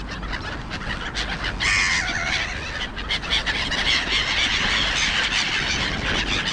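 Gulls squabble over food thrown onto a lawn, giving loud, harsh squealing calls that overlap in bursts against a background of traffic noise.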